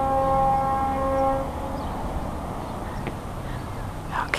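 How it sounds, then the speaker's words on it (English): A train rumbles in the background in Tasmania, a steady low roar with a sustained horn-like tone early on that fades, leaving the continuous rolling noise of the passing train. "Oh, train in the background."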